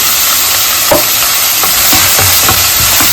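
Curry being stirred in a cooking pot, a loud continuous sizzling hiss with a few soft scraping strokes of the spoon scattered through it, and no voices.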